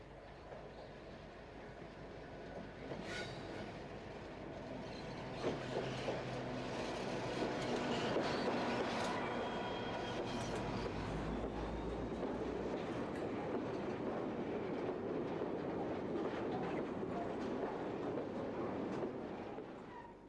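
British Rail Class 59 diesel locomotive 59001 arrives at Merehead Quarry with a continuous mid-distance rumble of engine and rolling wagons, punctuated by occasional metallic clanks and squeals.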